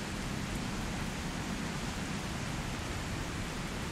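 Heavy rain falls steadily at night, a dense, even hiss that runs unbroken and fairly loud with no other sounds standing out.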